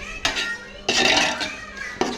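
A utensil stirs onions and tomatoes in a pot for biryani over high flame, with scraping and clanking strokes repeating close up.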